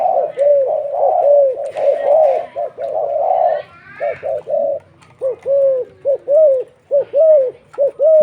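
A spotted dove coos loudly and close, repeating rhythmic rolling phrases in steady succession with brief pauses between calls.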